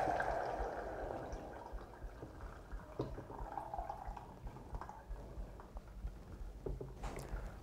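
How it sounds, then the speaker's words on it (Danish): Juices from a roasted Christmas duck pour from the pan into a container, a soft continuous trickle and splash that thins to faint drips, close by and with no talking. "Når anden er stegt, hældes væden fra anden."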